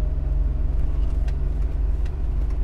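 A Mercedes G-Class cruises at 100 km/h, its engine and road noise forming a steady low rumble with a faint rhythmic hum, heard from inside the cabin, constant and fairly loud.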